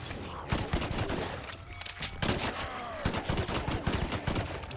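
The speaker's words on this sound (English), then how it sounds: "Let's use the gun." Rapid gunfire in the video game LORT, dense bursts of shots cracking in quick succession with brief pauses between volleys, loud and close.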